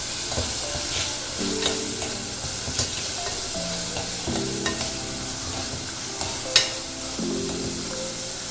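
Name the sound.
sautéing green chilies and ginger in a pan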